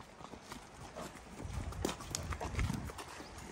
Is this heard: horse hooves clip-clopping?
yes